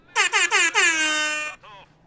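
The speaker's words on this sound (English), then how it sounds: "I'm going to stop talking and only air horn." A blaring air horn sound effect plays during a Company of Heroes 2 match stream: four short rapid blasts, then one long sustained blast and a brief trailing honk, loud and close.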